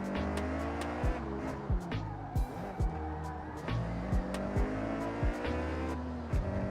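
A car engine droning steadily while driving in the racing video game Forza Horizon, with a rhythmic pattern of repeated clicks and brief pitch drops over the continuous hum, like regular gear changes.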